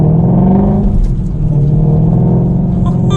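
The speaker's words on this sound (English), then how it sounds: "Just give it a little bit of gas." Ford Mustang GT350 V8 in sport mode and first gear, given a little gas at parking-lot speed: a close, loud, deep burbling rumble that swells gently and holds steady throughout, with no talking.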